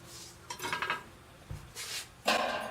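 The metal lid of a hot Big Easy oil-less fryer is lifted off after cooking a Boston butt pork roast, with a few faint metallic clanks and scrapes.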